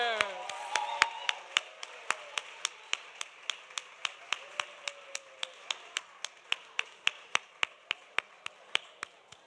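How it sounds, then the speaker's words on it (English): A lone, steady clap repeats at an even tempo, about three per second, for the youngsters at a lunch plenary. It sounds like a single deliberate clapper or a crowd clapping in unison. "Can we have one more courageous clap for our youngsters?"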